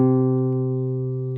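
A steady sustained reference pitch rings out for singing practice, one held tone that stays loud and even throughout, with no voices.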